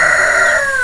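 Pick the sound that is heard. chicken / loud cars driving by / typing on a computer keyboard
chicken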